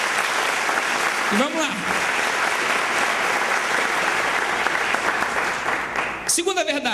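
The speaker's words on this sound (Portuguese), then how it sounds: "Dê uma salva de palmas ao nosso Deus" A church congregation gives a sustained, loud round of applause that fills the space evenly, with a brief spoken phrase cutting through early on and more voices rising near the end.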